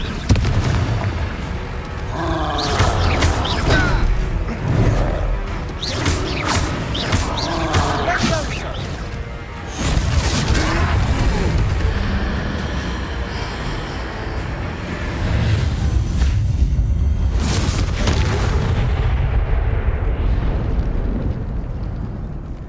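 Repeated booming blasts from a Confringo fire spell in Hogwarts Legacy, loud, forceful bursts rolling one after another with rumbling low-end tails.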